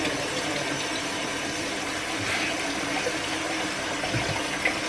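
A kitchen tap runs steadily during dishwashing, a soft continuous hiss of water flowing into the sink, faint and unbroken with no talking.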